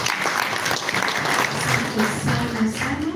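An audience claps at a university Kiswahili event at Kisii University, a dense, steady wash of applause from many hands throughout, with a faint voice underneath.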